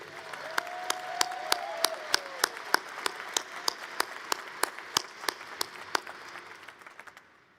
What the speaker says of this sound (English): Why don't we give her a round of applause, please?